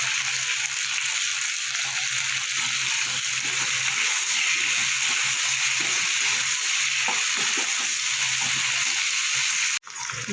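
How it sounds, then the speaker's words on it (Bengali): Okra frying in hot oil in a wok with a little turmeric, a loud, constant hiss and sizzle running throughout, cut briefly near the end, with no talking. "আগে আমি ভেন্ডিগুলো ভালো করে ভেজে নেব।"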